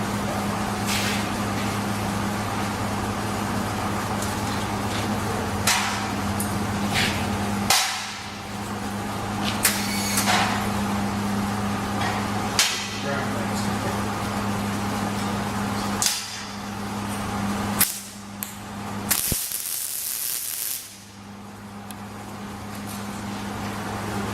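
Tack welding steel plate at the holes, a steady buzzing arc hum with sharp clanks and metallic knocks scattered through, ending in a loud burst of noise.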